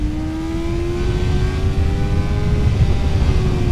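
A BMW M 1000 XR sport motorcycle engine winds up steadily under hard acceleration past 8000 rpm, its rising whine climbing over a rough rumble, loud and close throughout.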